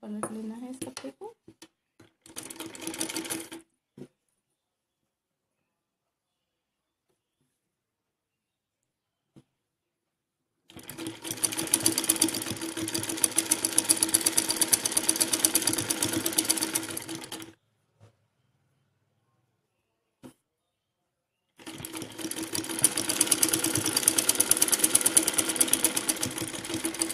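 A sewing machine stitches fabric for a fancy top in two long, steady runs separated by silence, with brief talk and rustling at the start.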